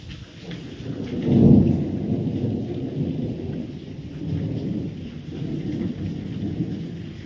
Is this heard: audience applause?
no